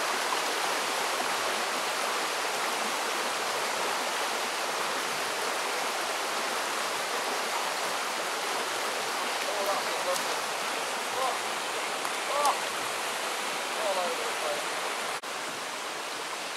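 A mountain river of pocket water tumbles over rocks, a soft, steady rushing hiss that runs unbroken throughout, fairly quiet and distant.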